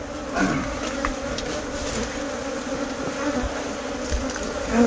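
Killer bees buzz steadily during a hive removal, a dense close swarm hum that holds throughout with individual insects whining past, no speech over it.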